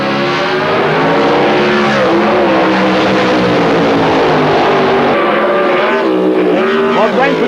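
A loud Super Stock drag racing car roars close by at a drag strip, its pitch climbing and sweeping as it launches hard and pulls away.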